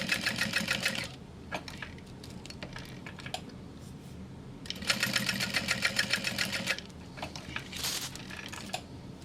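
A sewing machine runs in two loud rapid bursts of stitching as rows of top stitch go along bag webbing, with quieter pauses and small handling clicks between the runs.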